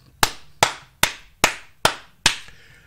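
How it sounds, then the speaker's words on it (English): A single person claps six times, loud and close, in a steady, evenly spaced rhythm, with each sharp clap ringing briefly before the next. "Clap it up, ladies and gentlemen."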